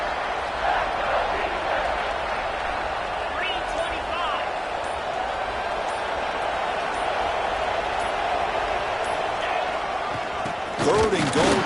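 Steady roar of a stadium crowd cheering in a video game football broadcast, a constant wash of noise under a commentator's voice, with a louder burst near the end.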